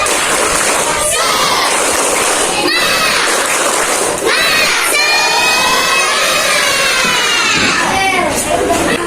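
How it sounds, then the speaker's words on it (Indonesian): Classroom of Indonesian sixth-grade schoolchildren loudly shouting a rhythmic spirit chant together with sharp clap-like bursts, a dense, lively crowd of young voices filling the room throughout. "kita tepuk semangat dulu ya. Iya, Bu. 1, 2, 3. Tepuk semangat."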